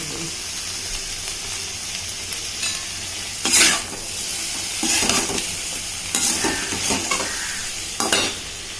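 Sliced okra sautéing in a hot pan, giving a constant sizzle broken by several louder bursts of scraping as it is stirred, close and clear, with faint talk now and then.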